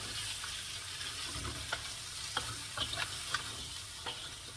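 Mud crab in XO sauce cooks in a pan with a quiet, steady sizzle, broken by scattered small pops and ticks across the stretch.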